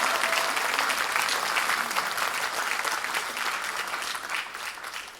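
A crowd at a Democratic Party talk concert in Wonju, Gangwon Province, claps loudly and continuously, a thick wash of applause sustained for several seconds and easing slightly at the end.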